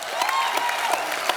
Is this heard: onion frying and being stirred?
no